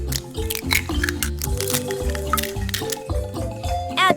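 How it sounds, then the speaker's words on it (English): An egg cracks over fish in a tiny miniature kitchen, with close wet squishing, dripping and liquid pouring sounds, plus a sharp crack near the end. "Crack egg over fish."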